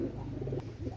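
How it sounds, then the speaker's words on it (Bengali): A pair of Oman Teddy pigeons coo softly and continuously at close range, low murmuring calls over a steady background hum. "অনেক সুন্দর এক জোড়া কবুতর ভিউয়ার্স, আপনারা দেখেন"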